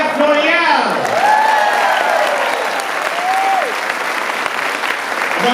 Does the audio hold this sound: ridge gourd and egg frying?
no